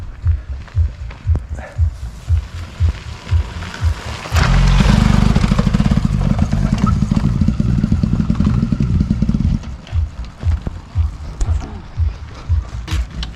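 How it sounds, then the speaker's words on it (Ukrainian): A broken-down motorcycle with a weak battery is pushed along with rhythmic thumps, then its engine catches and runs loudly and steadily for about five seconds before cutting back to the pushing rhythm. "Тепер, коротше, з толкача треба завести Серегу щоб його генератор якось намагався зарядити акумулятор"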